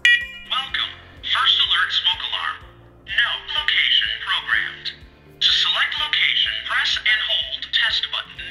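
A battery-operated wireless interconnect smoke alarm gives repeated short electronic chirps during pairing, alongside bursts of a woman's speech with brief pauses between.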